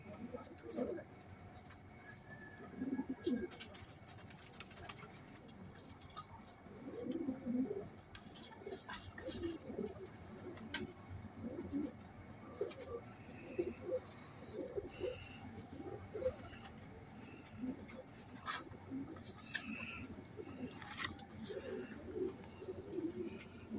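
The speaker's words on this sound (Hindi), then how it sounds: "वैशी कबूतर है, ये सियालकोटी वैशी कबूतर" Sialkoti wehshi pigeons coo in repeated soft, low rolling calls through the clip, with faint chirps and a voice talking over them at times.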